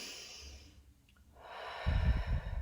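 A slow, deep inhale and a long exhale drawn together by a team settling in, close and soft, followed by a heavier, breathy release.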